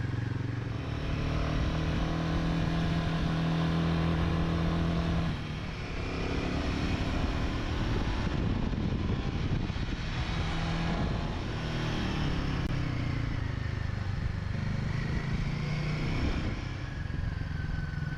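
A motorbike engine drones steadily on a rural road on the Isle of Skye, a continuous hum that swells and eases slightly as it travels, with no voices.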